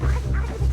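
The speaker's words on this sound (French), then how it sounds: "le chien que vous entendez, c'est le chien du troisième ami chez qui on était pour faire les enregistrements, qui s'est mis à aboyer" A dog at a friend's home where recordings were being made barks in short, steady yips, a clear burst at the start and another near the end, fairly close and loud.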